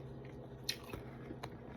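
Someone bites into crispy fried dried fish (tuyo) at a Filipino mukbang meal. It gives a few quiet, close crunches over a soft chewing background within a very short moment.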